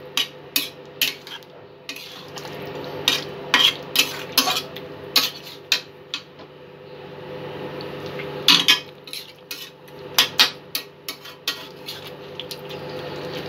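Kadai chicken ingredients being stir-fried in a wok, with a spatula striking and scraping the metal in sharp repeated clanks at an uneven rhythm, close and clear over a low sizzle.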